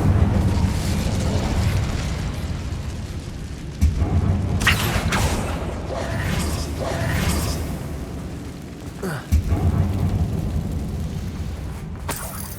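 Incendio fire spell cast in Hogwarts Legacy inside a dark abandoned mine, a rolling whooshing burst of flame with several boomy pops over a constant low game rumble, no talking.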